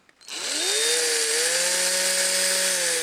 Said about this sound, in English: so just gently drilling through here